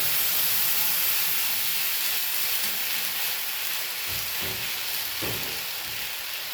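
Steady loud sizzling and hissing from a hot pan of spices and turmeric, with a burst of bubbling near the end as water is poured in for an upma.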